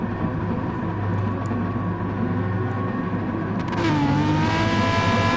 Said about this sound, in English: Revs are up once again at the start of the third and final race from Interlagos.